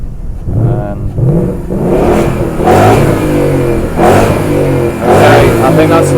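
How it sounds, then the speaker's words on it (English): A Ford Mustang V8 engine revs in repeated rising surges, loud and close, with people talking over the engine noise. "He's just letting it warm up just before he gives it a good rev."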